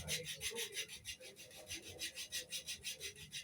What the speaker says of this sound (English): I hate filing my feet, but